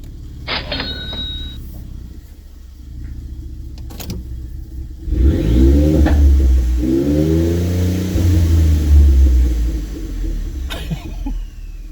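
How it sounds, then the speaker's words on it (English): Ford F-150 EcoBoost turbo engine in a video game, revving up from a low idle into a loud sustained rising and falling rev with turbo whine, after a few short clicks. "That turbo sounds pretty cool"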